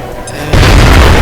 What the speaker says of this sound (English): So Roberts is going to fire off her grenade.